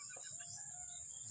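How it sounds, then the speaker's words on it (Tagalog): Chickens on a small backyard mini farm cluck faintly at a distance, a few soft calls over a steady high background hum. "Aking manok."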